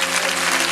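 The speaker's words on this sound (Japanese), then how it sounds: "拍手でお迎えください" Audience applause welcoming guests onto a film stage greeting at the Tokyo International Film Festival: a dense, continuous wash of many hands clapping at once, loud and even from start to finish.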